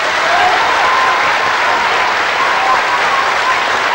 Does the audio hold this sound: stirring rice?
no